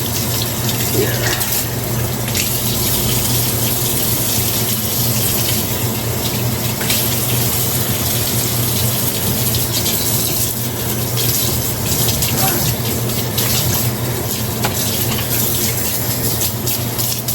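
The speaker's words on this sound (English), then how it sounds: "So we just rinsing and cleaning the sink." Tap water runs continuously into a kitchen sink during rinsing and cleanup after cooking, a steady close gushing splash with no pause throughout.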